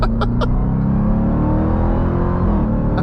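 A 710-horsepower 2023 Dodge Durango SRT Hellcat SUV lets out a loud, steady engine roar that holds close and full throughout, with a deep rumble, a few sharp crackles near the start and no talking.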